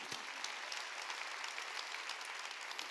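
A church congregation at a Sunday worship service applauds steadily, an even, continuous patter of many hands sustained throughout at moderate distance, with no talk over it.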